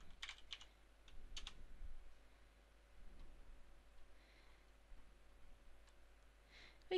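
Fingers type a command on a computer keyboard in the Windows command prompt, a quick run of close, crisp key clicks in uneven bursts over a quiet room background, with no talking.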